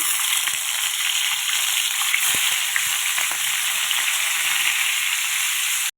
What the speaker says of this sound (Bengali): বন্ধু আমার তেলটা গরম হয়ে গেছে, এবার ইলিশ মাছের মাথাগুলো ভেজে নেবো